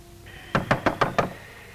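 Five sharp knocks on a wooden cabin door in a Yukon setting, evenly spaced and fairly close, with no voices over them.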